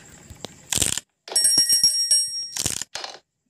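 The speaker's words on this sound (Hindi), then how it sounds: "घंटी बज चुकी है" A bell in the horror game Granny rings out in loud, bright bursts: a jangling ring, a longer sustained ringing with metallic overtones, then another ring with a short tail.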